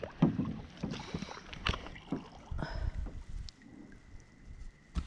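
A kayak scrapes and drags along the shallow bed of the Rum River in Minnesota, giving off irregular low scuffs and rustles with light wind noise, close and fairly quiet.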